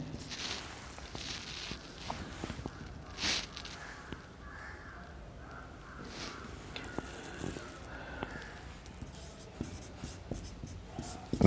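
Chalk or marker writing on a board during a physics lesson on concave mirrors, a soft scratchy tapping that runs steadily in a quiet room with faint background sounds.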